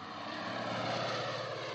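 A propeller aircraft engine in a 1965 French spy film drones steadily overhead, a dense, continuous roar that swells slightly and holds without a break, with no voices.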